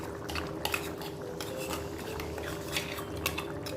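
Spice paste of ground almonds, cashews, coriander, cumin, cinnamon, clove and cardamom being stirred into chicken curry in a metal pot, with repeated scraping clinks of a spoon against the pan over a low steady background.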